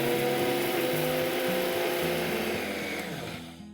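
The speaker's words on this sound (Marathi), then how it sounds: "आता सगळा मसाला छानपैकी बारीक होईपर्यंत वाटायचा आहे" An electric mixer grinder whirs loudly and continuously up close as it grinds homemade Agri-style spice masala, then winds down and stops at the end.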